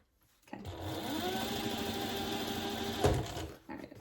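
A sewing machine basts a zippered project bag in one steady run of close, loud stitching that stops abruptly near the end with a short clunk.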